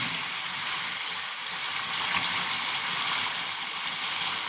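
Potatoes fry in a pot while a chicken stew is being made, producing a steady, dense sizzle and hiss that holds evenly from start to finish with no voices.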